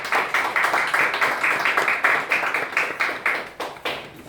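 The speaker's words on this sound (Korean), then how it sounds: "뜨거운 박수 부탁드리겠습니다" A small audience at a Korean provincial party chair candidates' debate claps in a rhythmic, fairly close pattern of distinct beats, several hands striking roughly in unison before tapering off.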